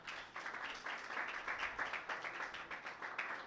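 A church congregation at a Sunday service claps for Jesus, a sustained wash of many hands applauding at moderate distance with a faintly rhythmic pulse.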